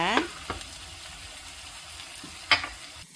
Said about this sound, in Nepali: अब ग्यासलाई चाहिँ मिडियम पारेर हामीले मसलालाई फ्राई गर्नुपर्छ।